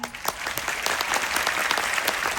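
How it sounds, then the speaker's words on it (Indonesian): Dense, sustained applause from a large audience at a concert, a steady wash of many hands clapping with no pauses and no clear speech over it. "Boleh saya tepuk tangannya?"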